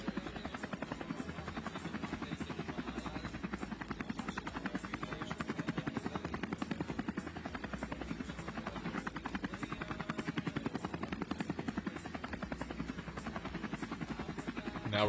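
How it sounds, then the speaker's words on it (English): A camera helicopter hovers over a mountain bike stage race in Israel, its rotor beating in a fast, steady chop that stays even and continuous throughout. "Now we're getting some images from our helicopter, our Israel-copter helicopter"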